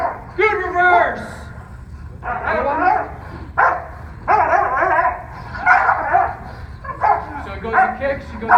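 A dog barks repeatedly during bite work training, with loud, close, rhythmic barks and yelps in bursts across the whole stretch, mixed with people talking nearby.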